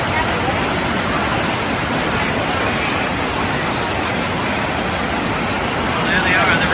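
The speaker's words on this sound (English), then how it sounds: "Well, there they are, the rapids." Niagara River white water rapids roar as a steady, loud, broadband rush of churning water that fills the whole clip without a break.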